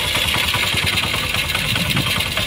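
A cheap Honda gasoline engine, apparently driving a water pump, runs steadily with the throttle opened, giving a continuous close, loud mechanical drone with a rapid low pulse and no pauses.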